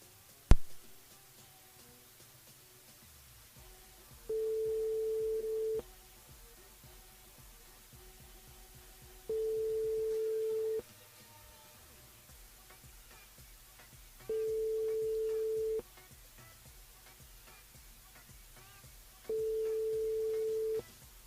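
Telephone tone on a radio call-in show while calling a listener back, four evenly spaced steady beeps each about a second and a half long, with quiet gaps between them.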